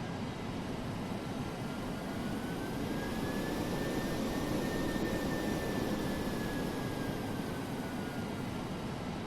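Jet engines of a DC-8-73F freighter in the flight simulator game FSX hum as a steady, loud broadband roar with a faint high whine rising and falling, heard alone without talk.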